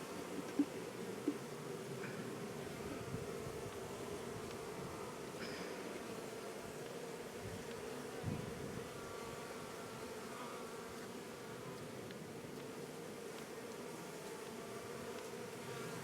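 Honey bees from a mountain hive hum in a steady low drone during a spring inspection, continuous and fairly faint, with a few small knocks and clicks and no talking.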